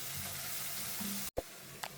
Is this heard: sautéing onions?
yes